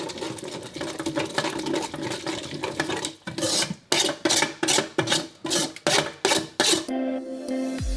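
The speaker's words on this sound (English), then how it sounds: "you can pour it into a sieve like I'm doing and strain it" Watermelon gazpacho is poured into a sieve and strained, giving a continuous wet pouring rush followed by a series of rhythmic scraping or tapping strokes, then a brief different clatter at the end.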